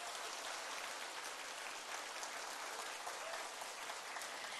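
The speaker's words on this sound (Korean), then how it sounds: "열정적인 강의를 해주신 회장님께 다시 한번 큰 박수 부탁드리겠습니다" A seminar audience gives a long round of dense, steady applause after a lecture in a hall, with the clapping filling the room at an even level.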